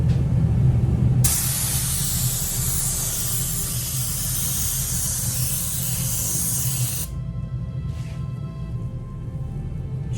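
Underbody coating paint sprayed inside a Dacia Duster engine bay, a loud steady hiss that starts abruptly after a brief pause, runs continuously for several seconds and then cuts off, leaving a quieter background.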